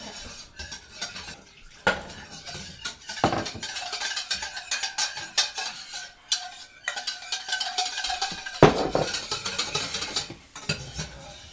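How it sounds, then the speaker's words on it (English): A roux is stirred into a sauce in a pot, with repeated scraping and clinking of a spoon against the metal and a faint simmer underneath. Sharper knocks come at intervals, and no one speaks. "Just let me stir this up real quick."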